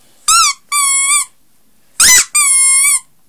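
A Care Bears squeaky plush pet toy, 8-inch, squeaked in four loud, close squeaks in two pairs, each a bright whistling tone, with silence between them and no talking.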